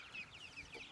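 Chickens in a mobile coop for pastured poultry at an ecovillage, giving a few soft, quick clucks close by at low volume.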